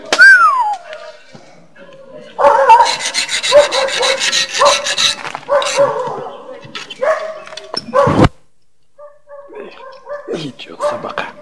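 A dog on a 1994 outing at Krasnaya Gorka barks and yaps in short bursts mixed with rustling and rubbing noises, with people talking over it.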